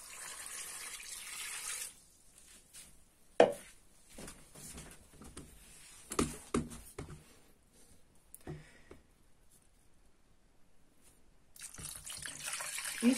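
Water from a tap runs into a small pot of fish soup being prepared with potatoes, heard in broken spurts with a few clanks and quiet gaps, rising again toward the end.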